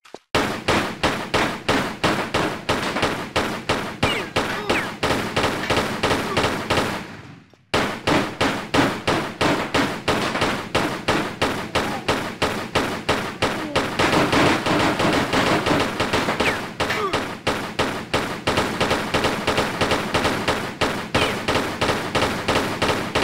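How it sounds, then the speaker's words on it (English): Pistols firing at the shooting range in Tomb Raider 2, loud and close, in rapid steady bursts of repeated shots with one brief pause before the volley resumes. "draw my guns and press action to fire"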